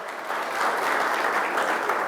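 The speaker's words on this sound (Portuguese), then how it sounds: "merece o aplauso, merece o aplauso" Steady, dense applause from an audience of students and teachers at a university talk in Cabo Verde, many hands clapping evenly and fairly close for the whole stretch, with no voices on top.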